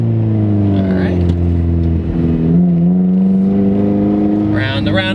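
A Pontiac Solstice roadster running with no catalytic converter revs up while driving, its engine note rising and falling in steady harmonic bands and staying loud and close throughout.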